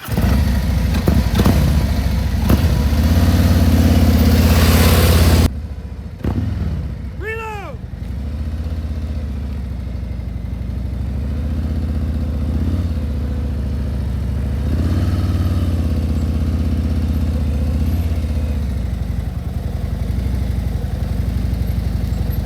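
A motorcycle engine idles and putters at low revs during slow-speed riding practice, loud at first then dropping to a steady rumble with a short rising rev, while someone talks over it.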